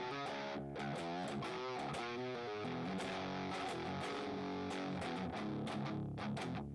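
A thick, fuzzy, heavily distorted guitar tone plays continuously, dense and loud, with chords shifting throughout and no voices.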